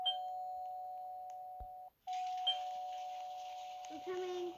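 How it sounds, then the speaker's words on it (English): A doorbell in the Roblox game Brookhaven rings with a sustained electronic tone, cutting out briefly and resuming, close and clear, while a voice talks over it toward the end. "Ringing your doorbell."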